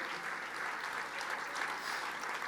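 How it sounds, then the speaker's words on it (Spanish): A church congregation claps in praise, a steady, even wash of applause sustained throughout at moderate loudness, with no speech over it. "Fuerte ese aplauso de alabanza al Señor."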